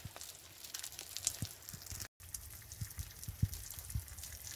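Soft crackling sizzle with scattered pops and spits from food in a pan inside a hot tent by a river in Galloway Forest, Scotland, steady and close, no voices.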